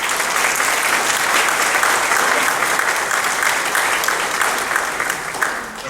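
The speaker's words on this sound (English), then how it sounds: "Let's give them a round of applause." Loud, dense applause from a seated audience at a veterans luncheon in Murrells Inlet, South Carolina, sustained clapping for several seconds that thins slightly toward the end.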